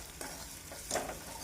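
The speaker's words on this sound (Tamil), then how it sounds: "நறுக்கிய சுவரொட்டியை சேர்த்து நன்றாக வதக்க வேண்டும்." Chopped goat spleen is sautéed in a pan, giving a faint, steady sizzle broken by a few soft scraping stirs.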